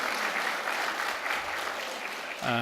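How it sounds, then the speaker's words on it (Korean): A church congregation claps together in encouragement during a service, dense steady applause filling the room, with a voice cutting in briefly at the very end. "우리 격려의 박수 한번 부탁드립니다"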